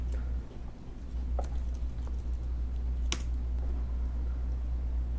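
Scattered keystrokes on a computer keyboard, a few light taps and one sharper click, over a low steady hum with no speech.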